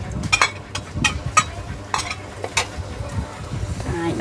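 Garlic being stir-fried in a pan for a Khmer fried cabbage and pork dish, with steady sizzling and several sharp scrapes and stirring clatters of a utensil against the pan, close and moderately loud.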